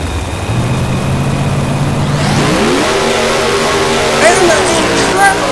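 Drag racing cars idle and then roar off the line together, the engine note climbing steadily and loudly through the run, with talk over the top.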